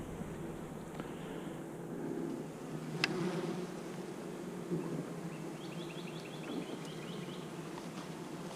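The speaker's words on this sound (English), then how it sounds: "There's quite a few bees" Honeybees buzz around a beehive frame during an outdoor hive inspection, a soft steady hum with individual bees droning past close by, quiet and continuous with faint chirping in the background.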